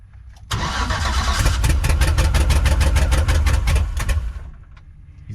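A struggling engine cranks over in a fast, even rhythm of loud chugs for about four seconds, nearly catching but never starting, then stops, with no one talking.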